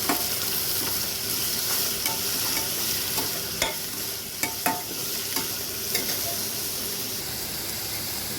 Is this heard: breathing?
no